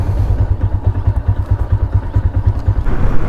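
Motorcycle engine running close by with a loud, rhythmic thumping pulse, steady throughout with no talking.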